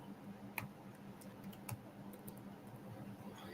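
Faint, sparse keystrokes on a computer keyboard while C++ code is typed, a few soft clicks spread irregularly over steady low room hum.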